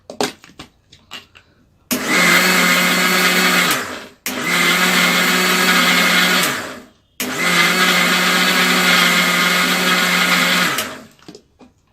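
Mixer grinder pulverising sugar with pistachio milkshake premix powder, running in three loud, close bursts of steady whirring roar separated by brief stops, with small clicks before the first run.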